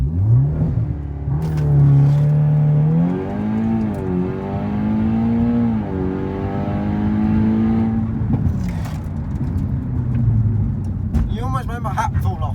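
Interior ride-along in a 385bhp VW Golf R during a launch: engine note climbs steeply through several gears with brief shift breaks, loud and close, with voices and whoops from passengers over the end.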